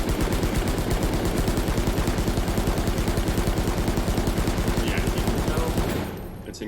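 Rapid automatic gunfire in Valorant under Brimstone's stim beacon boosting the rate of fire, a dense unbroken stream of shots loud and close for about six seconds before cutting off abruptly.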